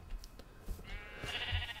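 Minecraft sheep bleating in the game, a couple of short nasal bleats, the last one longer and clearer, heard close against quiet game background.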